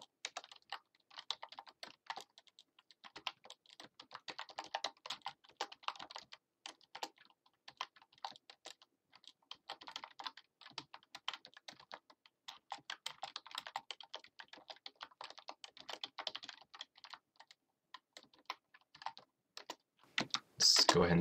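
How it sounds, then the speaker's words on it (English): Rapid, uneven keystrokes on a computer keyboard as someone types a short program in a Feed The Beast Minecraft tutorial, close and steady for about twenty seconds with brief pauses, ending in a louder burst of keys. "I'll just write some quick code here."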